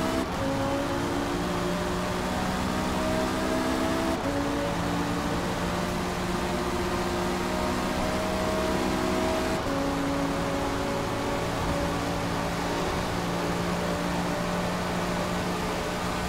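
KTM X-Bow GT2 race car in Forza at Le Mans, its engine droning steadily at high revs down a long straight, with two brief gear-shift breaks and sustained tonal whine throughout.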